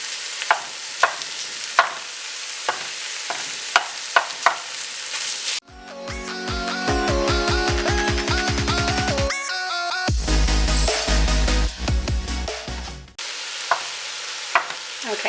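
Ground meat frying in a pan for five bean soup gives a soft sizzle with occasional stirring clicks, interrupted midway by loud music, then the quiet frying returns.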